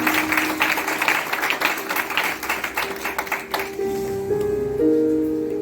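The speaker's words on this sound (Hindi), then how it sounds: "एक बार फिर उसके जलाल के लिए जोरदार ताली" Congregation applause during a Palm Sunday sermon, a few seconds of rhythmic clapping that gives way to sustained keyboard or music tones as the clapping thins out.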